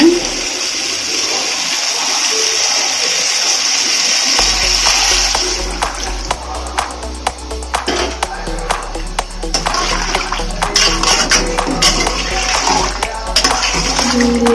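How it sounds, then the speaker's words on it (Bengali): Broth poured into a pot of beef rezala curry, a loud continuous gushing pour that shifts into bubbling, sizzling liquid with scattered clinks, close up with no talking. "এখন আমি এর মধ্যে ঝোল দিয়ে দিব।"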